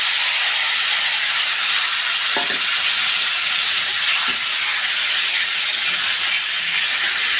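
Fish slides into a hot pan and fries with a loud, steady, close sizzling hiss that holds evenly throughout, with no voices.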